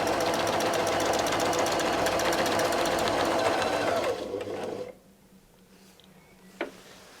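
A sewing machine quilts a circle along a ruler with a fast, even mechanical chatter that runs for about four seconds, slows, then stops, leaving quiet room tone with a small click.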